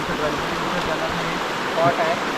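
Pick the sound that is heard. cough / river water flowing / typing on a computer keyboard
river water flowing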